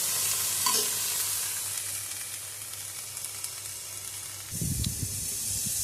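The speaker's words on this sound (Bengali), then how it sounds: "গ্যাস জোরে দিয়ে সমস্ত কিছু আমি সুন্দর করে ভেজে নেব" Capsicum stir-frying over a high gas flame for mixed fried rice: a steady, close sizzle with light stirring scrapes, then a louder clatter of stirring near the end.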